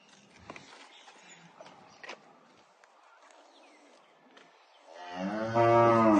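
A small but high-yielding dairy cow gives a loud, close moo near the end, after several seconds of quiet farmyard rustling and faint footsteps.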